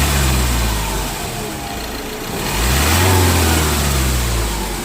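A remapped car engine revs up close and loud, a steady rumbling drone that dips, then swells into a stronger rev before easing off.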